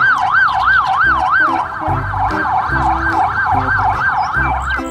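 A toy police car sounds its electronic siren, a loud wailing up-and-down tone repeating rapidly and steadily, accompanied by a low rhythmic electronic beat underneath, close and clear with no talking.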